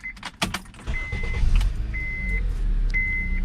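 A 2022 Honda or Acura car being switched back on: a few clicks and thumps, then a steady low rumble with repeated high electronic chime tones, close and alone.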